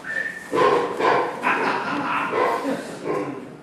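A dog barks repeatedly at close range in a stage-play setting, a run of short, loud woofs and yips spaced about half a second apart, with no talking over them.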